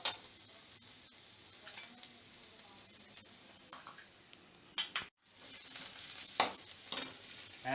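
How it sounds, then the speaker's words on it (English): Garlic paste fries in a pan for pav bhaji, a faint, steady sizzle broken by occasional stirring scrapes and light ticks. "I'm going to put the garlic paste and let it fry for a couple of minutes"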